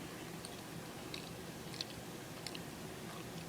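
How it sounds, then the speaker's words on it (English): Chewing gum worked slowly at close range in a quiet room, soft wet clicks and squishes repeating in an uneven rhythm, faint and intimate with no talking. "I'm just chewing on some gum right now because I'm not really hungry."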